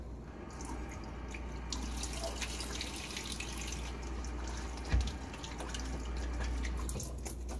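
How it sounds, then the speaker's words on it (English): A Merkur Futur safety razor being rinsed under a running tap, a faint steady stream of water with a single brief clink near the middle. "A little half rinse here."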